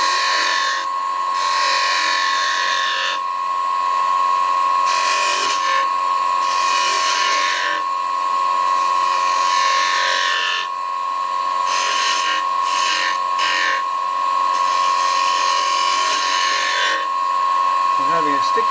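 Skew chisel cutting beads in wood on a lathe, with a steady scraping, hissing cut that comes in repeated bursts over a constant motor hum, the tool catching and sticking at moments.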